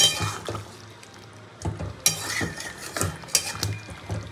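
Chicken curry stirred in a pan after garam masala goes in, with irregular scraping and clinking of a spoon against metal and a soft sizzle underneath, no talking.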